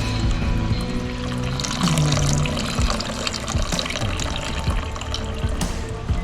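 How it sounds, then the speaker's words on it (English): Water poured over ground coffee for a traditional pour-over, a continuous close liquid stream with trickling and splashing, mixed with background café chatter and clinks. "Now this is a pour over."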